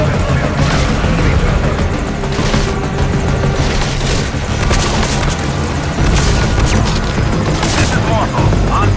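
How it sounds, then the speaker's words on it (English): A helicopter's steady rotor roar fills a video game scene in Metal Gear Solid V: Ground Zeroes, loud and continuous, with distant booms and gunfire layered underneath. "Our chopper is coming"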